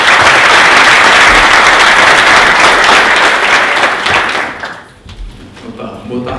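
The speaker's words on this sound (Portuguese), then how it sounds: "peço uma salva de palmas para o Ricardo" Audience applause at a Gamify 2016 gamification talk, greeting presenter Ricardo: dense, loud clapping filling the room for about four seconds, then thinning out and fading as a few voices and scattered claps linger.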